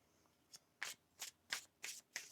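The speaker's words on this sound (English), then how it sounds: "One more shuffle now." Tarot cards are shuffled in a quiet room, about six crisp riffling bursts coming in a fairly regular rhythm, close and clear with no voice over them.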